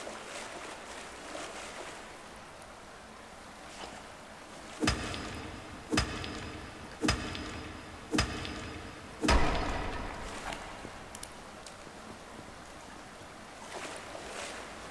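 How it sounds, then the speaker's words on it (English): Underground waterfall in a cave in the video game Subsistence, a steady broadband rushing wash heard throughout, broken by a handful of sharp clanking hits around the middle. "Underground waterfall"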